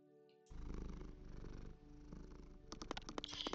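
A cat purrs in a steady, low rumbling rhythm at close range, starting abruptly and continuing alone before brighter sounds enter near the end.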